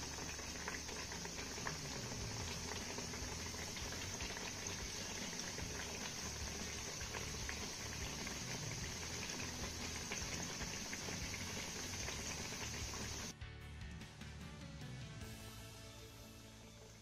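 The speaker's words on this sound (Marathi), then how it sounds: "चकल्या आपल्या तेलामध्ये सोडून झाल्या की गॅसची फ्लेम आपल्याला लो करायची आहे" Chakli made from jowar flour frying in hot oil on a low gas flame, a steady dense bubbling and crackling that stays even throughout, close and fairly quiet with no talk.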